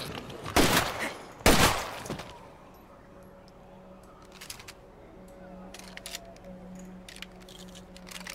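Gunshots in the zombie survival game State of Decay 2, two sharp loud reports close together near the start, then fainter scattered shots and clatter over a low hum with quiet background sounds.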